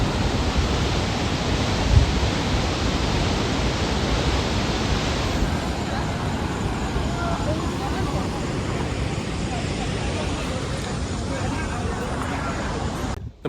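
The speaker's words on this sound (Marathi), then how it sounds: "धबधबाचा." A waterfall at Kumbhe village roars as a steady, dense broadband rush, loud and continuous throughout, with a crowd of visitors nearby and a brief bump partway through.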